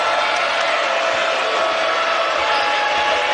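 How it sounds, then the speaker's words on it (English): Basketball arena crowd roaring in a steady, dense wall of cheering noise throughout a college game at St. Mary's. "And now the crowd's into this game."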